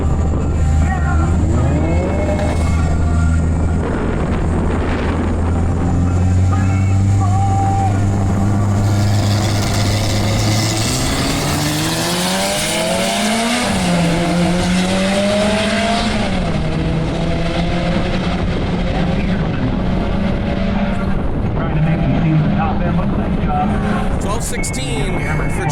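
Mitsubishi DSM cars at a drag racing event, engines roaring loudly through rising and falling revs and gear changes as they make passes, with continuous loud motor noise throughout and a voice speaking over it.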